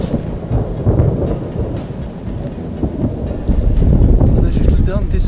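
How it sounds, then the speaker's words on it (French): Thunder from a mountain thunderstorm rolls through a high alpine pass as hikers near the col, a loud continuous rumble with rain and gusty wind buffeting the microphone and swelling toward the end. "Avec l'orage qui est derrière nous."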